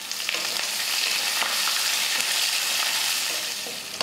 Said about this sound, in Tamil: ஒரு பெரிய வெங்காயமும் கொஞ்சம் கருவேப்பிலையும் சேர்த்துக்கலாம்.